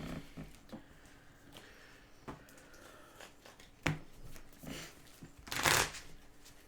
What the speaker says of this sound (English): Each player shuffles their hand and graveyard in their library and draws 7 cards.